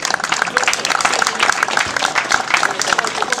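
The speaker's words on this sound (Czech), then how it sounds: "Těm také náleží potlesk." Applause from an audience at a village festival celebrating a volunteer fire brigade's anniversary, a steady dense patter of clapping lasting throughout at a fairly even level.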